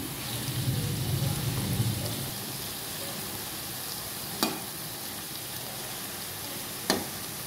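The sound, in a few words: stirring vegetables frying in a pan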